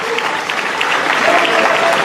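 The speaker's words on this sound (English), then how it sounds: "A big round of applause for him." A crowd at a University of Cape Coast gathering gives Kennedy Agyapong a round of applause. The clapping is dense, loud and steady and fills the whole stretch.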